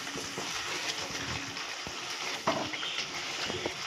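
Hot water poured into a kadai of parshe fish curry with mustard paste, giving a steady broadband simmering hiss and bubbling throughout with faint stirring clinks.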